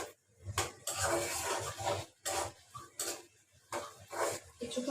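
Hilsa fish curry is stirred in a pan with red chilli, giving repeated scraping, clattering bursts of spoon against metal, close and moderately loud, in a steady back-and-forth rhythm.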